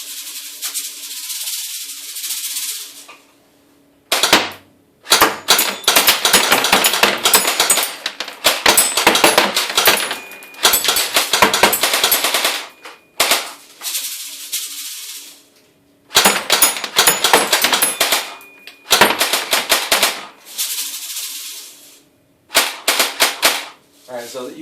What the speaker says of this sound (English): Now I got the full auto 200 feet per second